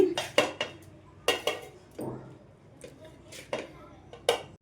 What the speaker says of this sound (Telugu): మొత్తాన్ని ఈ విధంగా ప్లేట్లో తీసేసుకోవాలి